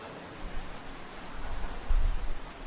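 Rain falls steadily as a dense broadband hiss, fairly loud and even, with a low rumble swelling briefly midway; no voices are heard.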